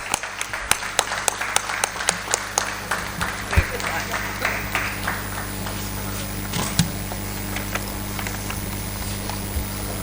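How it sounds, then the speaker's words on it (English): Audience at a business literature festival in Bangalore applauds after a token of appreciation is presented, a thin scattering of claps that carries on steadily for about ten seconds and then fades. "Can we please have a huge round of applause?"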